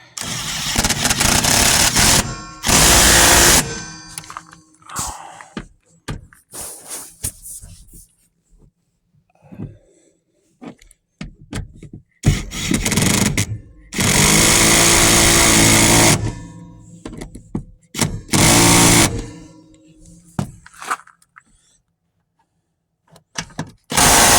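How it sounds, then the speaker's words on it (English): A power tool runs down truck seat bolts during a junkyard seat swap. It comes as several loud, close bursts of a few seconds each, separated by quieter gaps of clanks and handling noise. "all the bolts started, so let's go ahead and get them, put the rest of the way in."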